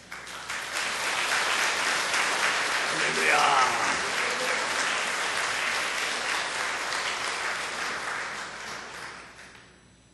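A church congregation applauds in welcome as the elder pastor comes forward at a Sunday worship service, steady clapping that fills the hall for several seconds and then fades, with a voice calling out briefly partway through.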